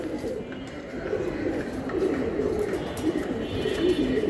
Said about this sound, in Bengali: এই যে আমি কবুতরগুলো দেখাই